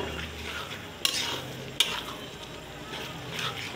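Egg is stirred and scrambled in a frying pan, with a soft continuous sizzle and two sharp spatula knocks against the pan.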